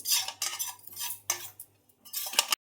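Grated coconut roasts in a pan while a spoon scrapes and stirs it in several distinct bursts, close and fairly loud, with short pauses between strokes and no talking.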